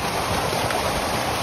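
Water rushing steadily in a waterfall within the Wadi Mujib-style canyon of Wadi Atun in Jordan, a dense, continuous broadband roar that stays loud and even throughout, with no voices.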